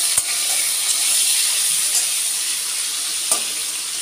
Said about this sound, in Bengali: ফুলকপিটা ভাজা পর্যন্ত অপেক্ষা করব।